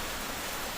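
Steady rain falls during a car journey, heard as a constant, even hiss of broadband noise with no talking.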